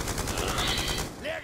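Rapid automatic gunfire in Call of Duty Black Ops 2, a dense continuous burst of loud shots lasting about a second before cutting off, with someone talking over it.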